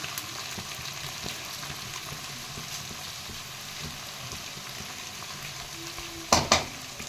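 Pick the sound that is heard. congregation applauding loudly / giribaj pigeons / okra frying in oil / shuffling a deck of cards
okra frying in oil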